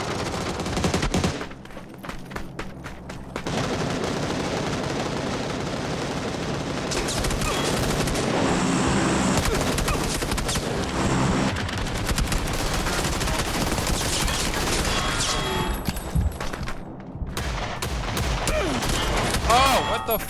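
Video game gunfire including a Desert Eagle pistol, dense bursts of rapid shots and fusillades running almost continuously and loudly, with people talking over parts of it.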